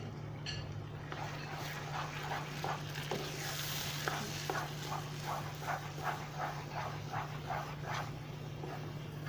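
Moong dal halwa being stirred and roasted in a pan, a steady low sizzle with repeated soft scraping strokes of the spoon at a regular rhythm, close and moderately quiet.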